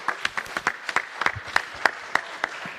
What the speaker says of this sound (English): Can you give him a round of applause again?